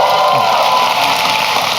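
Audience applause at a live stand-up comedy show, a dense, steady wash of clapping filling the whole moment without a break.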